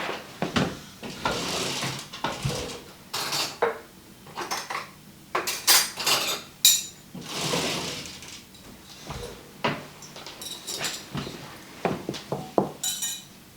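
Dishes and metal cutlery clatter and clink close by in a kitchen while a spoon is fetched for a salmon pasta salad dressing, with repeated sharp knocks, scrapes and drawer-like rattles and no talking.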